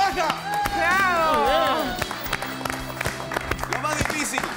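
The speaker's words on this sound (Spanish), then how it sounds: "¡Aplausos uno, aplausos dos, aplausos!" Studio audience applause on an Argentine TV hidden-camera show, a dense burst of clapping and cheering that swells and then thins out, with a host's voice and music running over it.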